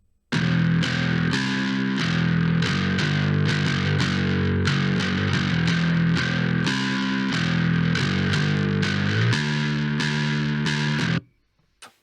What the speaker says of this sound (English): On my third channel, I have some distortion.